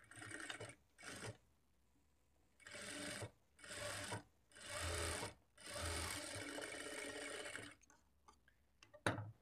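A sewing machine stitches a blouse hook strip in several bursts of rapid whirring, with short pauses between runs.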